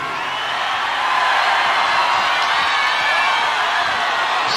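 Stadium crowd at a concert tour at RDS Stadium, Dublin, in 1993, a dense, steady roar of applause and cheering that swells slightly and holds loud and continuous throughout, with no single voice standing out.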